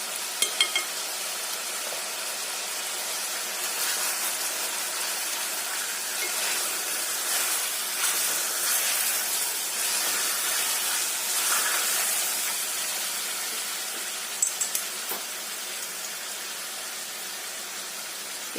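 Garlic paste sizzles and hisses steadily as it fries in a hot pot, a continuous close crackle of frying with occasional stirring clicks, no voices.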